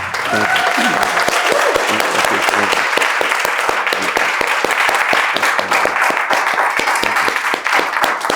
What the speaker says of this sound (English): I want everybody to give this master a round of applause.